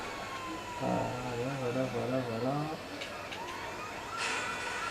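A wavering police-style siren imitated by a voice while playing GTA 5, rising and falling in smooth sweeps for about two seconds, close and clear, with brief speech before and game sounds around it.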